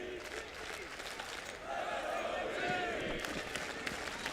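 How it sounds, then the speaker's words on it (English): Crowd at a Counter-Strike esports match between Luminosity and Virtus.pro at MLG Columbus 2016, cheering and clapping in a large hall that swells midway, under excited commentary. "Look at this crowd."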